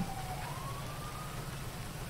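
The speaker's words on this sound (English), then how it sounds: "It's getting pretty rainy now." Rain in the GTA 5 video game: a dense, even hiss of steady rainfall throughout, with a faint distant siren wailing beneath it and no voices.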